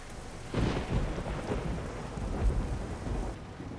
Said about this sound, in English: Oh good, it started to rain more.